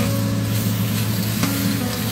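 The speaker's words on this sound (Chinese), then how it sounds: "然后倒入排骨，把排骨翻炒上色" Pork ribs stir-fried in melted rock sugar caramel in a wok, producing a loud, continuous sizzle with occasional stirring scrapes, no speech.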